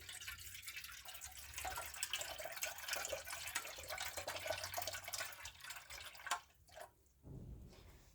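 Coconut water poured from a fresh coconut into a blender for homemade coconut milk, heard as a soft, faint splashing trickle that tapers off near the end.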